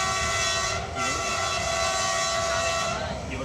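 Train running on the Canfranc railway line, a steady loud rumbling roll of wheels on track with a sustained horn-like tone on top, heard close from on board, no talking.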